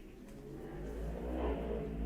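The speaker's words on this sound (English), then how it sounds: "Apologies for the motorcycle." A motorcycle engine passes outside, rising into a loud, steady low rumble that swells toward the middle of the stretch and holds strong to the end, with no talk over it.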